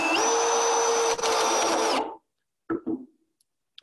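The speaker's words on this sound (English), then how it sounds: "just before I start putting the screws in" A power drill driving screws into the wooden boards of a raised garden bed, a loud steady whine for about two seconds that stops abruptly, followed by a couple of short knocks and quieter handling sounds.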